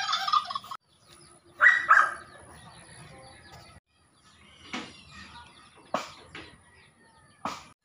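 Turkeys gobble in short bursts at moments scattered through a quiet stretch, fairly close, with little else around.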